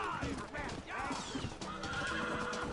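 Horses whinny loudly in the Red Dead Redemption video game, with hooves clopping and someone shouting over the busy game sounds.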